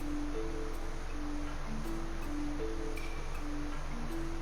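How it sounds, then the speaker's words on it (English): Soft background music from Final Fantasy Crystal Chronicles Remastered: a gentle melody of sustained tones steps along at a slow, even pace, quiet and alone under a faint hiss. "Yeah, you hear this? This is a different song."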